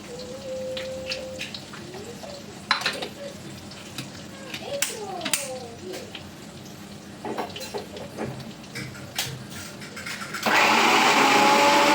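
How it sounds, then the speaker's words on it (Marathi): A mixer grinder whirs loudly through masala for dum aloo, starting abruptly near the end after a stretch of kitchen clinks and scrapes, and running steady and close to the end. "हा जो मसाला आहे तो मी आता मस्त ग्राइंड करून घेते"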